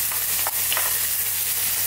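Onions and garlic sizzle steadily in a pan for a pasta bake, a close, continuous frying hiss broken by a few faint stirring scrapes.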